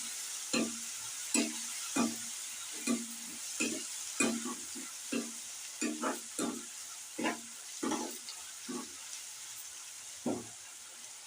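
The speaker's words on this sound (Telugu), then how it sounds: "ఒక 5 నిమిషాలు వేయించుకోవాలి మంచిగా." Prawns fry in a pan while a spoon stirs them, giving a soft, low sizzle under a run of sharp, repeated scraping and clinking strokes, irregular but steady, close and fairly quiet.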